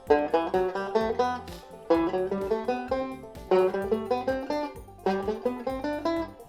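A guitar plays a six-note scale climbing along a single string up the neck, the phrase repeated four times in steady plucked notes, each group starting low and stepping upward, clear and close.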